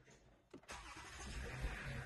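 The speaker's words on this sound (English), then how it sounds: "And it starts the car." A Lexus car engine starting with a newly programmed spare key: a short starter crank followed by the engine catching and settling into a steady, close idle rumble.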